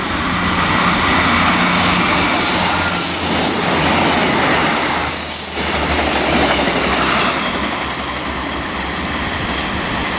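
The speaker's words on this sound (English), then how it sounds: "we've got a Salisbury London Waterloo service passing through now" Class 159 diesel passenger train on the Salisbury to London Waterloo service passing through Weybridge on the South Western Main Line, loud and close, a continuous rumbling roar with rhythmic clickety-clack of wheels that fades slightly toward the end.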